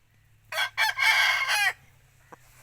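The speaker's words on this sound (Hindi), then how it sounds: "इंशाल्लाह अच्छे मुर्गे हैं इनके पास।" An aseel rooster crows once, loud and close, a broken call that swells into a long sustained note and cuts off, over a faint low hum with no talk.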